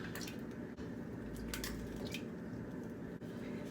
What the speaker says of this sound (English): So we're gonna dump the egg in.